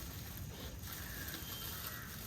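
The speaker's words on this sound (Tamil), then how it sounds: "வாவ், பெரிய வால் கிளாக்." Large wall clock being unboxed as a housewarming gift, its mechanism giving a steady, close mechanical ticking and ratcheting against a fairly loud background.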